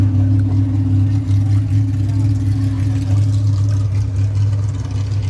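A 1956 Plymouth Fury two-door hardtop in eggshell white idles with a steady, low engine rumble, the mid-range drone holding constant and close throughout.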